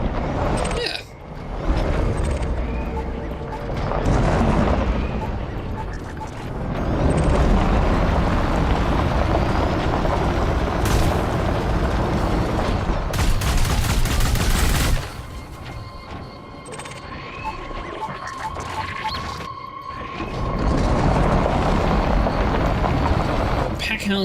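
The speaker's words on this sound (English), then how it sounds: "Packhound missiles, man." Packhound missiles exploding in Elite Dangerous: Odyssey: loud, sustained rumbling blasts and crackling bursts, pausing briefly before another long roar, with voices talking underneath.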